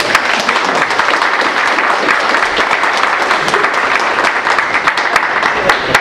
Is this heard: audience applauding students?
yes